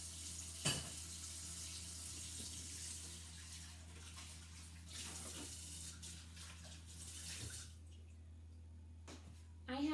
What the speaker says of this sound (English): I am going to do just a little bit of a rinse here